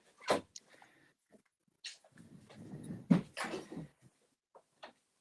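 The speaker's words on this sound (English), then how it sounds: "The dog's whining." A dog whining at home to be let outside, giving short high whimpers and brief squeaks separated by pauses, close by, with a louder burst of rustling and movement in the middle.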